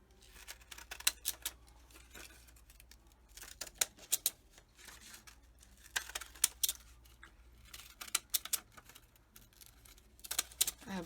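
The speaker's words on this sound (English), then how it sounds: "let's just take a scissor and make this a different" Decorative scissors snip through paper in short clusters of crisp cuts, close up, with quiet pauses between.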